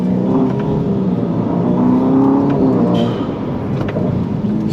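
A Ferrari SF90 Stradale accelerating hard on paddle shifts, its engine a loud, close, rising roar with a steady whirring drone and brief shift breaks, heard alone without talk.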